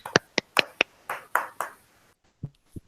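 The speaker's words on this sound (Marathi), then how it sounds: "हिच्यासाठी एकदा टाळ्या होऊन देऊ द्या" Scattered handclaps follow a student's science exhibition presentation: a handful of distinct, close claps in a short quick run, then a pause and two softer claps.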